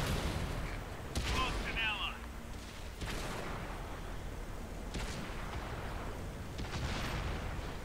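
Artillery shells and tank cannon fire boom during a World of Tanks match, with several sharp blasts and rumbling impacts under ongoing battle noise while a person talks.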